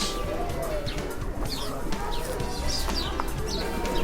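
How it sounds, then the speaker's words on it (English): Partridges call in a park with soft, repeated clucking and cooing notes amid other birds, fairly close over a busy outdoor background, with faint voices now and then. "They even have different kinds of birds here in this park. These are called partridges."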